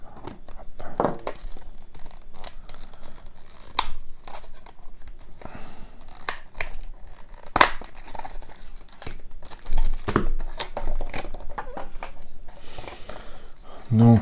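A Marvel Champions hero card pack being opened: crinkling plastic wrapper, tearing and rustling cards handled close up, with sharp crackles scattered throughout and someone talking intermittently.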